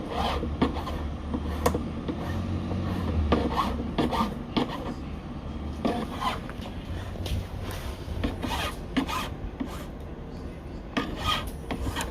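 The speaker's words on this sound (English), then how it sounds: "I can do a little bit of filing, maybe just to help it to do the edges more while it's cooling down." A metal file rasps steadily against the edges of a wax bezel as it cools, a continuous close scraping texture with repeated strokes and no talking.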